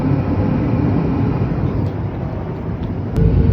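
Steady, loud, broadband cabin drone inside a passenger airliner in flight at sunset on the way to Pune, an unbroken engine and airflow roar with no talking.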